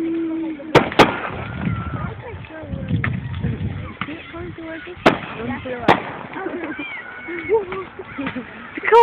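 Fireworks burst in a handful of sharp cracks and pops spread across the stretch, heard close over steady crowd chatter and talking voices.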